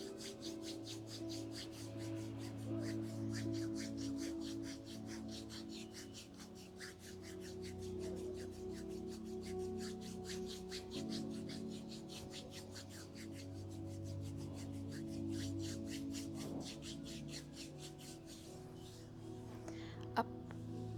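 Hands rub the feet during a foot massage, making a continuous soft, close rasping friction with steady repeated strokes, faint and alone apart from a small click near the end.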